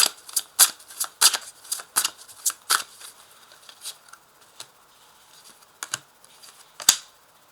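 Close, crisp shuffling of an Oracle des vies antérieures card deck: sharp snapping riffles in a quick irregular rhythm that thin out to a few scattered taps and a final slap, with no talking.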